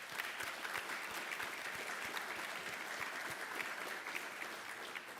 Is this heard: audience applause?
yes